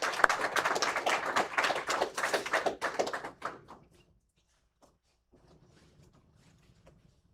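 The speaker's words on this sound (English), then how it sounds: "So please give her a round of applause." An audience at a National Reconciliation Week morning event gives a round of applause. The clapping is brisk and moderately loud, then thins and dies away after about three and a half seconds, leaving near-silence with a few faint taps.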